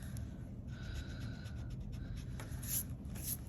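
Pencil drawing pop-art apple shapes on paper, heard as faint, steady scratching strokes with brief pauses as lines are adjusted and redrawn.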